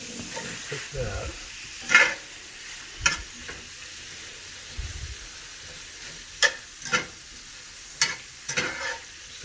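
Asparagus cooking in a pan with blackened shrimp, a low sizzle broken by sharp clanks and scrapes of stirring at irregular intervals, close by, with no talking.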